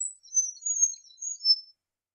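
A superb fairy-wren in thick, low vegetation at Gatton gives a quick run of high, thin chirps and trilling notes for under two seconds, fairly faint and with no other sound around it.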